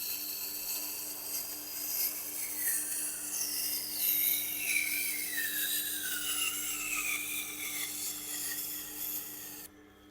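A Nitro V steel knife blade drawn across the 1000 grit side of a Tormek Blackstone sharpening wheel, giving a steady close-up rasping, grinding hiss with sliding pitch sweeps for about ten seconds before stopping abruptly.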